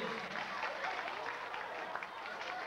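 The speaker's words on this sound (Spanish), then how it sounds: "Soledad, dale un aplauso, caballero." Applause from a Spanish variety-show audience, a dense, steady wash of many hands clapping at moderate distance, with faint voices mixed in and no break across the short stretch.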